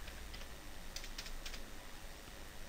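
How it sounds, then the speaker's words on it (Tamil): Typing on a computer keyboard while entering values into an Excel spreadsheet, a quiet, close patter of quick key clicks in short bursts over faint room noise. "பாருங்கள் இந்த வேல்யூ ஃபுல்லாக நான் வந்து டைப் பண்ணுறேன்."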